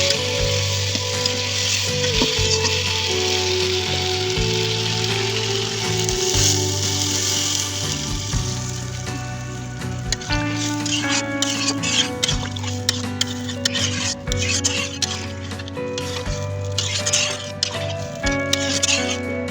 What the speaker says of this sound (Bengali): এখন আমি পরিমাণ মতন ঝোল দিয়ে দেবো।